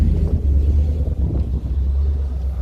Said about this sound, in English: Loud diesel truck messing up my damn video.